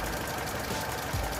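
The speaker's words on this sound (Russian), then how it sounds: "Тихо, движок работает ровно," A Lada VAZ 21099 engine idling smoothly and evenly, a steady low hum with no misfiring or shaking, heard up close and alone at a moderate level.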